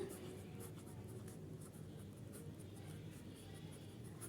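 Pen or marker scratching across a board during a maths lesson, a steady run of quiet strokes with soft taps, faint and close, without clear speech.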